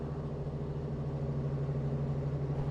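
Truck with a Cummins ISX diesel engine and 18-speed transmission idling, a steady low rumble with an even hum, close and continuous, no talking.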